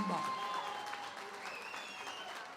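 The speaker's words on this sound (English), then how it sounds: "please give a round of applause" Audience applause at a UKFC 24 mixed martial arts event after a unanimous judges' decision, steady broadband clapping and crowd noise filling the hall throughout, with an announcer's voice faintly over it.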